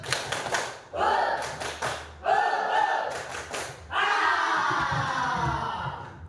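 A seventh-grade class does a rhythmic spirit clap chant, the whole group shouting and clapping together in loud, close bursts separated by short pauses.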